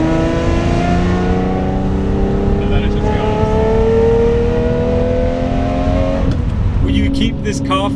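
Lamborghini engine revving with a rasping exhaust, a loud steady drone climbing gradually in pitch before dropping back, with someone talking over it and a brief clatter near the end.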